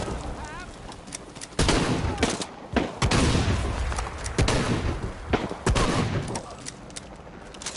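Shotgun blasts in the Shadow of the Tomb Raider video game boom out in a loud, irregular volley, each heavy shot separated by brief pauses over continuous background din.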